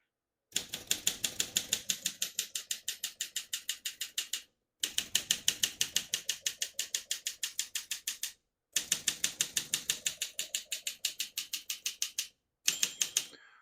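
A 1959 Olympia SM3 vintage portable typewriter clacks in fast, even bursts of keystrokes, close and crisp, with three long runs broken by short pauses and a brief final burst.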